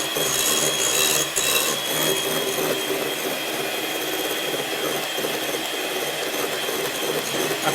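Electric mixer whisking egg whites and sugar for raspberry pavlova, a loud continuous whirring drone with a steady high hiss, close and unbroken throughout.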